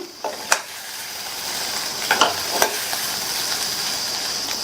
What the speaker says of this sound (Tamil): இப்போ நல்லா பெரட்டி விட்டாச்சு. ஸ்டவ் சிம்ல வச்சு ஒரு 3 நிமிஷம் இருக்கட்டும்.